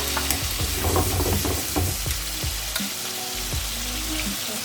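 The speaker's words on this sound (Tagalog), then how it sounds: "You fry the mushroom a little bit in oil" Mushrooms frying in oil in a kitchen pan, with a steady loud sizzle and crackle, broken by the clatter and scrape of stirring throughout, alone with no voices.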